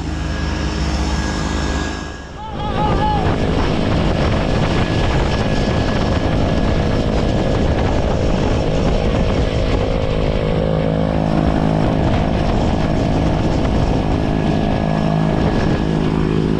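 An OV aircraft's engine and propeller run on a cold, crisp morning, a loud continuous throbbing drone that dips briefly early on, then holds steady and close throughout.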